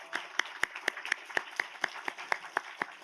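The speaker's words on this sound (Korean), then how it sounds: "이 시간 다 같이 박수하는 시간 가지도록 하겠습니다." A church congregation claps in thanks during a Sunday worship service, a steady, evenly paced rhythm of roughly a dozen unified claps, fairly faint and heard on its own without talk.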